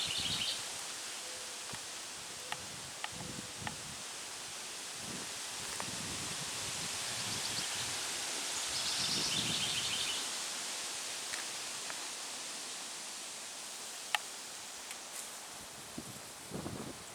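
Wind rustles plants and grass in a cottage garden on a windy early morning, a steady hiss that swells and eases in gusts. Faint leafy crackles and a few small ticks and clicks come through now and then.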